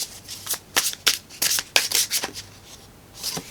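Tarot cards being shuffled by hand in close, crisp bursts of riffling and rubbing, several quick flurries with brief pauses between them, loud and with no voices.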